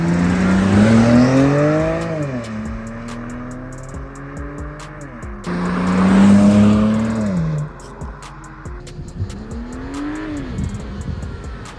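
A BMW Z4 30i E89 roadster heard from outside, its engine revving up and down in two loud pulls with rising and falling pitch, then settling to a lower, steadier rumble.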